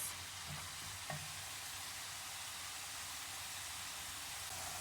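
Swiss chard sautéing in a pan with a steady, even sizzle and a couple of faint stirring clinks, close and continuous without any talk.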